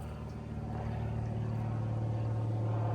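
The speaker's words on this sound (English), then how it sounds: "and now a plane flies over it, so you're not going to hear me" A low, steady engine drone hums throughout, like an aircraft passing overhead, constant and moderately loud with no talking.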